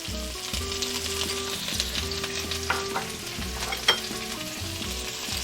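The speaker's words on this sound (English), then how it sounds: "I add all my onions in here" Julienned onions and green onions hitting a hot frying pan, a dense, close sizzle with stirring over soft background music and no speaking.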